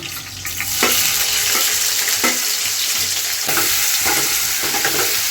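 Chopped green chillies and onions fry in hot oil, a loud steady sizzle with the scrape of stirring recurring every second or so, close up and with no voices.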